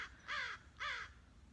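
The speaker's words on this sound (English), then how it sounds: "It just sounds like a little squeaky mechanical part, but it's this tiny little bird sitting there" A tiny bird perched nearby gives two squeaky, mechanical-sounding calls about half a second apart, each a bright, harsh burst with a short downward slide, over quiet background.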